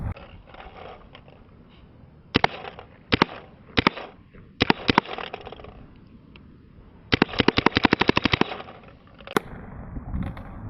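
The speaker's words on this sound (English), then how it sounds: "I'm just going to take the safety off and take a couple shots at that cardboard over there" A BT TM-15 paintball marker fires at a cardboard target outdoors, first in single spaced pops, then a fast string of sharp cracks, each shot loud and clipped against quiet background.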